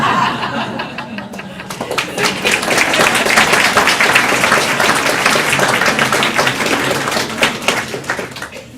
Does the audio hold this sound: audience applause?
yes